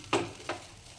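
Instant poha with coriander being mixed in a pan: two short, close scraping stirs against the metal over a faint sizzle.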